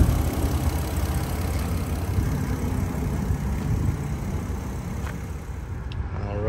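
A 2008 Volkswagen R32 with its inline-six engine idles outside, giving a steady, even low rumble with a smooth mid-range hum, close and constant throughout.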